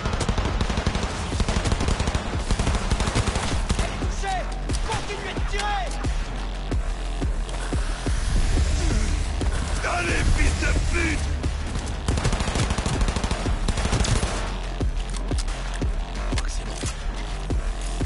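Dense bursts of automatic gunfire fill a Cyberpunk 2077 firefight, loud and rapid, with repeated volleys and clatter over a rumbling backdrop and intermittent speech.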